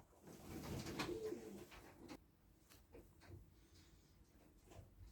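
Pigeons coo in a loft of young birds, soft, low and fairly close, with faint rustling around the calls.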